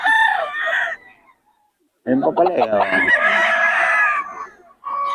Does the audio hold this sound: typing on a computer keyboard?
no